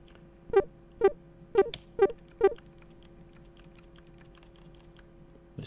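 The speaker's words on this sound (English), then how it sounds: "It's just the random stuff I'm typing in." Five distinct keystrokes on a computer keyboard while entering notes into arpeggio programming software, evenly spaced about half a second apart, close and clear over a quiet background, with no talking.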